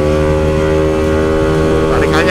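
Yamaha Aerox 250 scooter engine revving as it accelerates, a loud steady droning hum with strong harmonic tones that rise slightly toward the end, close to the rider.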